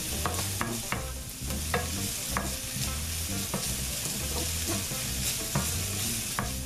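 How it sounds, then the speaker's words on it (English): Garlic and onions sauté in an Instant Pot while a utensil stirs them, giving a steady close sizzle broken by repeated sharp scraping clicks. "Next, we'll add the onions and saute them for another minute as well."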